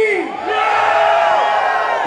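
A concert crowd at a Latin jazz show screams and cheers, a loud dense swell of whoops and yells rising after a brief shout, sustained to the end.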